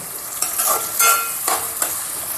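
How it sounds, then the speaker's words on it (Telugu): Fresh raw Godavari prawns and raw chana dal frying in a pan, with a continuous close sizzle broken by several rhythmic scraping stir strokes about every half second. "ఇప్పుడైతే కలుపుకుందాం. ఇది బాగా వేగాలి."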